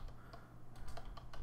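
Quick, light keystrokes on a computer keyboard, a short irregular burst of close clicks over a low background hum.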